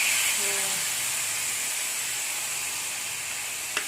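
Chicken sizzles on a hot iron tawa, a broad steady hiss that fills the kitchen, loud and constant, easing slightly over time, with a small clink near the end.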